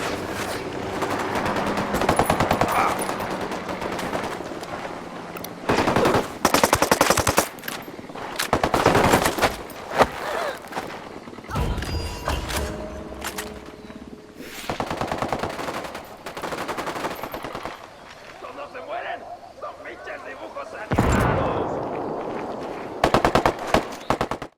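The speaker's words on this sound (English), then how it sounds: "Opening fire on these shitheads" Automatic gunfire in the tactical shooter Ghost Recon Wildlands during an assault on Santa Blanca cartel fighters: loud, sustained bursts of rapid fire with sharp, dense volleys broken by short pauses and explosive cracks.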